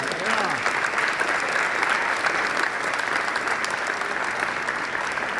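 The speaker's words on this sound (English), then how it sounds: "Let's give her a big round of applause." A concert audience applauds the winner of a vocal competition at a show, a steady, dense wash of clapping that holds evenly throughout, with a faint voice beneath it.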